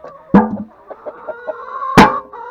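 A chicken clucks in short bursts with two louder, sharper squawks, close by and with no talking.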